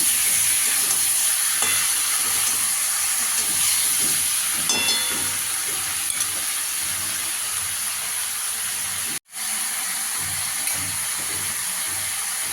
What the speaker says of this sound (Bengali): এবার চিকেনটাকে ভালো করে ভেজে নেবো একটু।